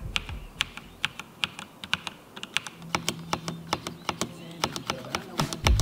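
Rapid typing on a cheap mechanical keyboard bought from Wildberries for 2900 rubles, some keys with a gritty, sandy feel. Crisp, close key clicks come in uneven bursts, speeding into a dense flurry midway, with no talking.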